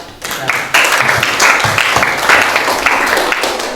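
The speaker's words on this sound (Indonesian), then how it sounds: "Sekali lagi beri tepuk tangan kelompok 4." High school students in a classroom applaud group 4 during a teaching practice lesson, a loud, close round of clapping from many hands with sharp individual claps standing out, continuing steadily throughout.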